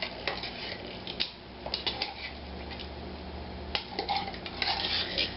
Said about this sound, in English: you put that all in there and you stir that up